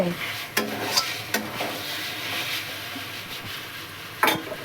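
Masala being stir-fried (kosha) in a pan, a soft steady sizzle with a few scraping strokes of a spatula against the metal.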